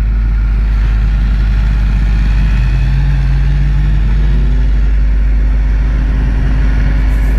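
A BMW S1000R motorcycle engine held in second gear on the Lysebotn hairpins, a loud, steady low drone that holds through the whole stretch with a brief rise in pitch partway, with wind roar above and no voices.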